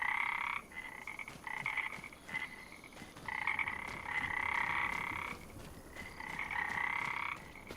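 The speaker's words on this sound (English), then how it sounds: "I don't mind listening to the frogs." Frogs croak in Farming Simulator 25, a steady chorus of repeated rhythmic calls in several long bouts with short gaps, moderately loud over a soft ambient background and no speech.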